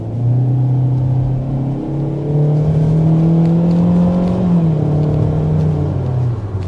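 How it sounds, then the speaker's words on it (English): A 2025 Kia Soul with a CVT pulls away from a stop sign, its engine note climbing through stepped, gear-like rises and then easing back, a loud, close drone heard from inside the car with no talking. "as I take off from the stop sign here in just a second"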